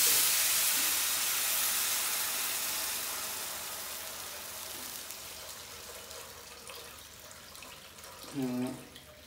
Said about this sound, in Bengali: এখন আমি পরিমাণ মতো আমি জল দেবো, যতটুকু জল লাগে